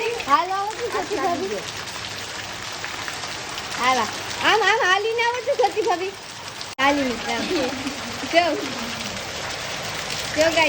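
Steady rain hisses throughout by the sea while people talk over it, the downpour continuing evenly beneath their voices.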